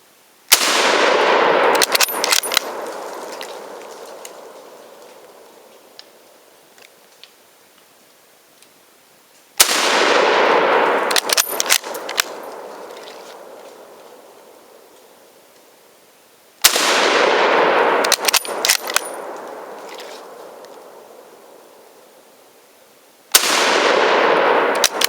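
Swedish Mauser M96 Carl Gustafs rifle fired from a kneeling position at a simulated 300-meter target: four loud, sharp single shots spaced several seconds apart, each ringing out into a long decaying echo, no talk.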